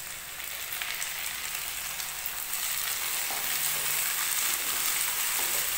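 Onions frying in a pan for soya chunk bhurji, a steady close hiss and sizzle that grows slightly louder, with faint occasional stirring.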